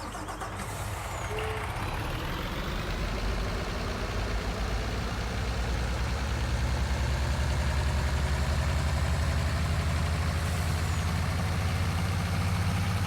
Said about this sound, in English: we're going to jump into this lorry and we'll take a drive over to the other area